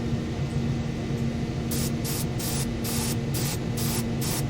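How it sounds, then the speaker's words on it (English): An airbrush spraying paint onto a miniature dragon gives short, repeated bursts of airy hiss over a constant electrical hum and static. "I have material behind it that's catching the paint particles, so it's not just spraying onto my wall behind me."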